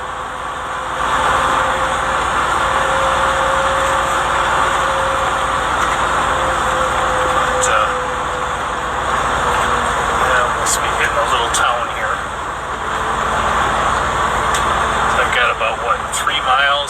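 A truck hauling a load of pallets cruises along a Kentucky highway, its steady engine and road rumble continuous and close throughout, with a few faint clicks and rattles near the end.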